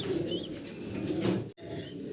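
High Flyer pigeons of the Budapest breed, grizzle colour, cooing softly in a low, murmuring rumble, with a few higher chirps and a brief wing flutter.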